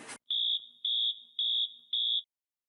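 A fire alarm sounds after a pull station is activated, giving four evenly spaced, loud, piercing high-pitched beeps after a brief burst of noise, with nothing else heard.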